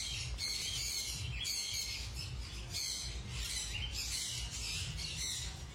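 Sun conure parrots kept at home give repeated shrill, harsh squawks in rapid bursts, loud and close, over a steady background hum.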